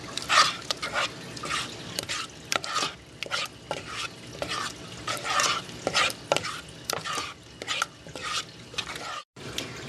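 A homemade gel food mixture for goldfish is stirred in a bowl, giving repeated wet scraping and sloshing strokes in an uneven rhythm, close and fairly loud, with no talking.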